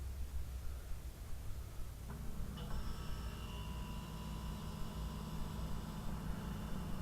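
A repaired refrigerator compressor that previously would not start kicks on partway through, adding a steady low hum and a faint higher whine over background noise, then runs continuously and quietly.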